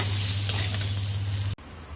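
Potatoes frying in hot oil in a pan, a steady loud sizzle with a constant hum that cuts off abruptly near the end, no voices.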